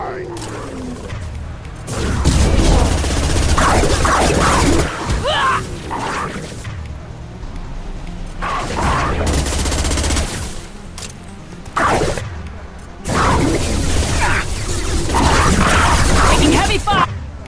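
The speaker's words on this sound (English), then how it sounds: "Taking heavy fire!" Heavy gunfire rages on Tuchanka in Mass Effect 2, with loud bursts of shots and crashes arriving in waves separated by brief lulls, voices shouting over the battle.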